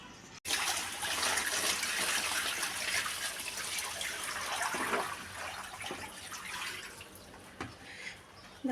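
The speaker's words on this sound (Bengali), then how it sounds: "জল নিয়ে নিয়েছি, জলটা এখন ঢেলে দেবো।" Water poured steadily from a container onto a plate, a continuous close splashing trickle lasting several seconds with no talk.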